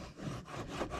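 Wax being rubbed onto a gift-shop sled at White Sands, a short, quiet burst of rough scraping strokes, two or three back-and-forth rubs close by.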